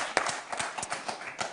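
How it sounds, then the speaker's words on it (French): A handful of separate claps from a TV game show studio audience, sparse and uneven, fairly close, briefly punctuating a quiet room. "Applaudissements et surtout des encouragements pour nos équipes"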